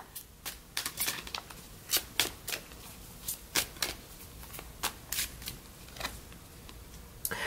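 Tarot cards shuffled and drawn by hand: a steady run of close, crisp slaps and riffles, irregularly spaced, fairly quiet against a calm background.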